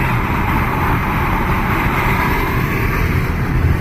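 Inside an MG Marvel R driving with the sunroof open, a loud, steady broadband wind rush roars over the low road rumble, constant and unbroken throughout.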